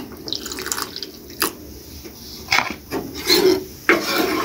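Fruit custard mixture is poured into a cooking pot in uneven splashing bursts, with drips and scraping of the container, close and alone with no talk.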